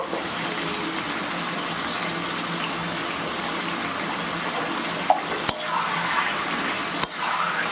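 Paper chicken masala and turmeric powder roast in a hot pan with a steady, close, dry sizzle. A few sharp scrapes from stirring break through near the end.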